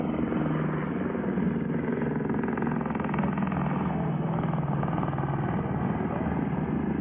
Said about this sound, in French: Des hélicoptères Tigre qu'on voit déjà survoler la zone.